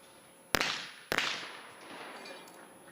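Two sharp shotgun blasts ring out about half a second apart during a skeet doubles round at the Asian Shooting Championship in Changwon, each cracking loudly and trailing off into an open-air echo.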